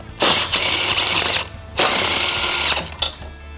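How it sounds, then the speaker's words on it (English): A ratchet wrench with a 14mm socket spins off trailer hitch nuts on a 2022 Toyota Sienna, giving two loud, close bursts of rapid clicking, each about a second and a half long, with a short pause between them. "we're going to remove 3 nuts on each side using a 14mm socket"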